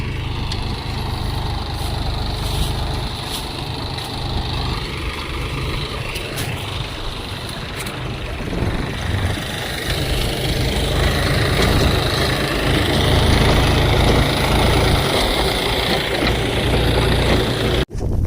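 A tractor's diesel engine runs steadily nearby, a low throbbing drone that grows a bit louder and rougher midway before cutting off abruptly at the end.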